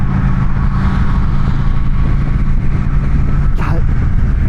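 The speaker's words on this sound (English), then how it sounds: "it absolutely has a very characteristic rumble to it, just cruising down the highway" A Honda Shadow Phantom 750 motorcycle cruises down a highway, its engine giving a loud, steady low rumble mixed with heavy wind rush, with no break in the drone.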